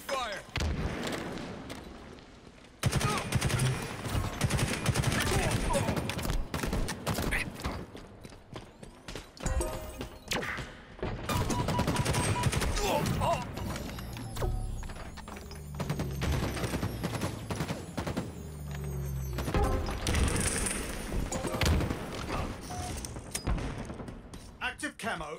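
Halo Infinite gunfire in a ranked Strongholds match comes in repeated bursts and scattered shots of varying loudness, mixed with game effects and brief voice callouts.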